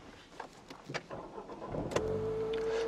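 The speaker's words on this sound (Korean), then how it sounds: "시동 부드럽게 잘 걸리고 있고요" Inside a used car with about 92,000 km on it, a few soft clicks and cabin thumps come first, then the engine cranks briefly and catches after a smart-key start, settling into a smooth, steady idle.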